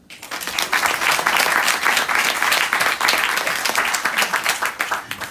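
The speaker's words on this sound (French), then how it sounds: "Vous pouvez être fiers de vous et vous applaudir." An audience in a hall breaks into applause that swells quickly and holds as steady, dense clapping, thinning slightly at the end.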